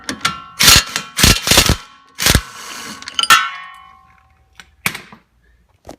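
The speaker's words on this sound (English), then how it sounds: "with our 1/2-inch drive, we'll just take out these two bolts" A half-inch drive ratchet works bolts loose from a brake line bracket on a car's front suspension, giving sharp metallic clanks and ringing clicks in irregular bursts, close by, with quiet gaps between.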